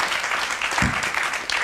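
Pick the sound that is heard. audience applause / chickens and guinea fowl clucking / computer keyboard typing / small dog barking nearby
audience applause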